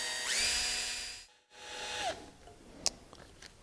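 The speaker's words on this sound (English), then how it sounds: "we're gently going to drill" A drill bit gently boring into the aluminum of a Volkswagen Golf ignition lock cylinder, a quiet whining spin that rises then winds down, stops, briefly resumes, followed by a few small clicks and taps.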